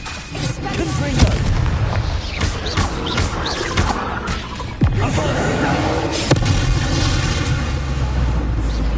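Confringo fire spells blast in Hogwarts Legacy, a run of loud booming explosions with sharp thuds at irregular intervals and rumbling tails.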